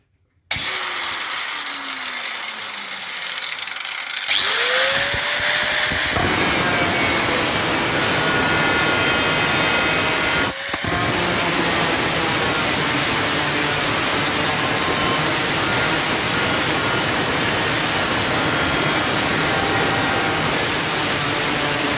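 An angle grinder cuts a circle out of a metal disc for a homemade chopper blade, a loud continuous high whine and gritty metal rasp after a short spin-up, with one brief dip midway.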